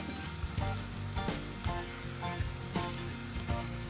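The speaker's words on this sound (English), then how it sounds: "I'm going to add the courgettes and mix this just to coat the courgettes with the tomato paste." Courgettes frying in a pan coated with tomato paste, a steady close sizzle broken by repeated scraping stirs of a spoon through the vegetables, with no talk.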